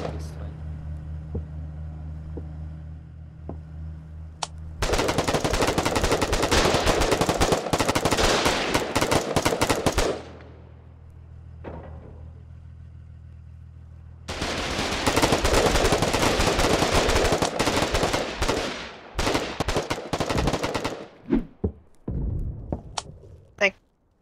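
Gunfire in the war video game Foxhole: two long, loud bursts of rapid automatic fire broken by a quieter stretch, then scattered single shots, with a low engine-like hum beneath and a voice talking.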